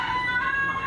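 A chicken of the ayam Inggris breed calls out in a sustained, loud, drawn-out vocalization, close by, with no talking over it.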